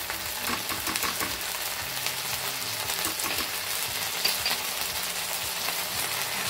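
Seafood sizzles and fries in a pan as tomato sauce is added and stirred in, giving a steady, crackling hiss with small stirring scrapes, close and continuous.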